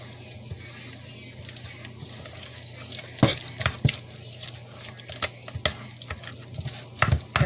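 A spoon stirs nutritional yeast into a cheese and spinach lasagna filling, soft wet scraping and a few sharp clinks against the bowl, close by over a low background hum.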